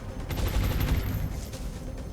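Gunners in XCOM Long War lay down suppressing fire in a sustained automatic burst, a rapid volley of close gunshots that tails off slightly toward the end.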